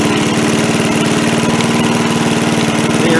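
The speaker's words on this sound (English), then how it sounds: "I'll try throttling it up here." An MTD push mower's small engine runs loud and close with a steady, rough, pulsing drone that holds at one speed rather than revving up.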